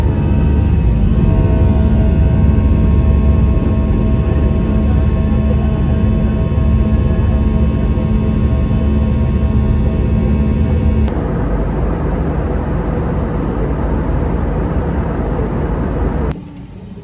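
Airliner cabin during takeoff on a trip to Budapest: a loud, steady engine roar and rumble fills the cabin throughout, with a tonal whine on top that drops away partway, then the noise eases slightly near the end.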